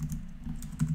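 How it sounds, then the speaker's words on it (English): Brief burst of computer keyboard typing while entering a Firebase pod command in Xcode, a few soft close keystrokes over a low background hum. "we're going to start by typing in"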